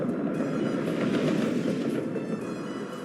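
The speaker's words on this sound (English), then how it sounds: "Trains are working properly again." Trains running in the video game Workers and Resources: Soviet Republic, a continuous rumbling rail clatter of wagons rolling past, steady and fairly loud, with no talk.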